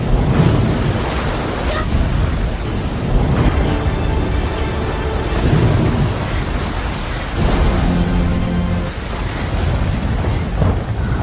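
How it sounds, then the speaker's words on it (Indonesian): Heavy storm at sea on the Pacific Ocean, high waves battering a small sailing boat on a solo voyage around the world; a continuous loud roar of wind and surging water, swelling and easing without a break. "dan kemudian badai pun datang"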